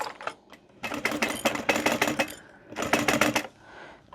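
Sewing machine stitching a fabric lanyard, rapid mechanical needle chatter in several close bursts separated by short pauses, fairly loud and alone.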